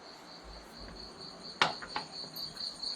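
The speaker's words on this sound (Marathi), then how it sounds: "आणि रातकिड्यांचा आवाज बघा." Crickets chirp at night in a village, a steady high trill carrying on throughout, with a couple of brief sharp knocks nearby partway through.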